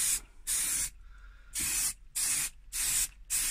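An aerosol spray paint can hisses in five loud, steady bursts of about half a second each, with short quiet gaps between them, while paint is sprayed onto a K11 car's centre fascia. No one speaks.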